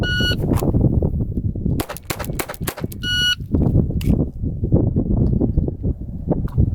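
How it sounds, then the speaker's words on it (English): Gunshots ring out at an outdoor shooting range, a rapid cluster of loud, sharp reports amid busy background noise, with two electronic beeps around the volley and scattered fainter shots continuing after. "Now we are going to fire 5 shots."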